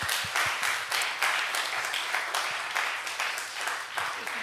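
A church congregation at a Sunday worship service gives a round of thankful applause for the coaches, a dense, even patter of many hands clapping at moderate loudness, with a few louder claps near the start.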